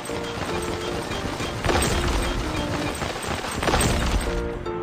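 Cartoon truck drill breaking a stone slab: a steady mechanical rattling clatter with two louder crunching bursts partway through, with no voices.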